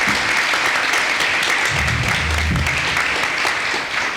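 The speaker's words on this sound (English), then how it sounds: "I think he deserves a round of applause" Loud, steady applause from the audience at a 1991 Cupertino Chamber of Commerce candidates forum, a dense continuous clapping that holds at full strength for about four seconds, close and unbroken.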